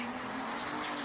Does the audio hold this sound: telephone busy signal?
no